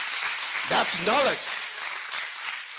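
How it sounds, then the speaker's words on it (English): Applause from a room of teenagers at a summer career program, a moderately loud wash of many hands clapping steadily, with a voice speaking briefly over it. "A round of applause for him."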